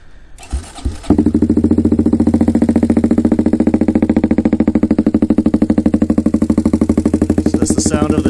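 A 2023 Honda Grom fitted with a Toce exhaust, cam, Chimera intake and ECU tune cranks after a few brief clicks and catches on a cold start, then settles into a loud, close, steady pulsing idle with a fast, even exhaust beat.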